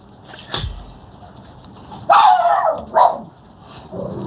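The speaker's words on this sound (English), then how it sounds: "Dog's got a temper." A dog in a pinball repair shed barks sharply once, then lets out two longer, loud growling barks a moment later, close and harsh against a quiet background.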